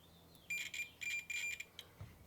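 Quiet high-pitched electronic beeps from a multimeter continuity test sound in a few short bursts, faint against a hushed background.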